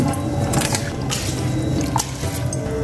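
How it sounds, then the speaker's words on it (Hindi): Rice tipped into a pot of salted boiling water for carrot sweet rice, a close burst of pattering and splashing over the constant bubbling, with a few sharp clinks. "अब इसमें हम चावल डाल देते"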